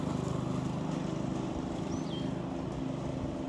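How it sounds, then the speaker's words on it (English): Someone mows a lawn in the background, a faint steady engine drone humming low and continuous. "There's someone mowing in the background, so I hope you can still hear me"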